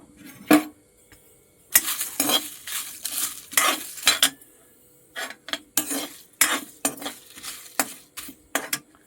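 Whole spices, coriander, dried red chillies and garam masala, dry roasted in an iron kadai, with repeated sharp metallic scrapes and clinks of a spatula in irregular bursts separated by short quiet gaps.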